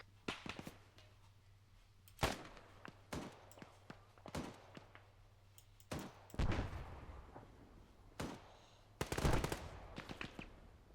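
An M2 heavy machine gun mounted on a Humvee fires in Arma 3, loud bursts and single heavy shots spaced irregularly through a combat scene, with sharp echoing reports.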